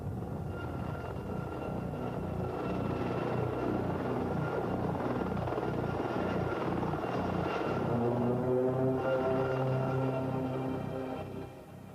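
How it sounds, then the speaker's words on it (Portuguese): A Bell AH-1 Cobra attack helicopter, the first combat helicopter used in Vietnam, flies with a steady loud rotor chop and engine drone throughout, fading slightly at the end. "O Hill Cobra foi o primeiro helicóptero de combate que entrou em ação no Vietnã."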